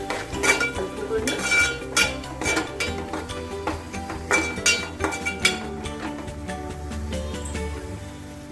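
Chopped onions with half a tablespoon of turmeric stirred in a pan for a spring onion and tomato curry: a spatula scrapes and clinks against the metal in repeated strokes, close and moderately loud, with a faint frying hiss underneath.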